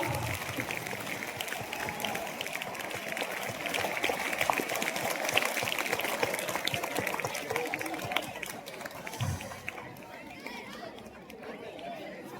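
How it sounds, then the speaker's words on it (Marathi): Applause at a school Guru Purnima celebration honouring Nazar Kaka, heard as a crowd clapping steadily amid chatter, fading toward the end as the room quiets. "नजर काकासाठी एकदा जोरदार टाळ्या वाजवा"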